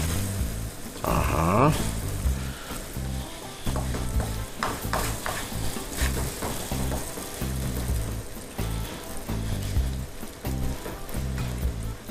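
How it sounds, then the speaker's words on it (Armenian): Browned flour being stirred with cream in a hot pan, a continuous close sizzle with steady scraping strokes throughout and no speech. "շատ քիչ ավելացնում ենք կաթի սերուցքը, խառնելով"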